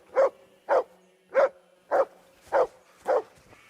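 Mutz the dog barks in Kingdom Come Deliverance 2: six evenly spaced, clear barks at a steady rhythm, close and alone with no talking.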